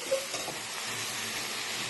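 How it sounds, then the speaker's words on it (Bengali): Taro leaves fry in a pan with turmeric for a rustic Bengali village dish, giving a steady, soft sizzle with faint stirring clicks near the start, no voices. "এবার এটাকে ভাজা ভাজা করতে হবে।"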